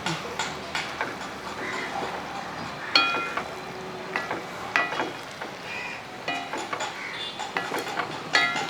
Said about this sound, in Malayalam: മീനിട്ടതിന് ശേഷം ഒന്ന് ഇളക്കി കൊടുക്കുക